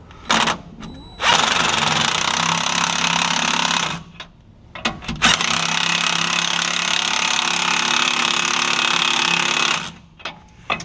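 Impact-style power tool tightening lift bolts on a 2008 GMC Sierra Z71 pickup, loud close rattling bursts, one short and two long sustained runs separated by brief pauses.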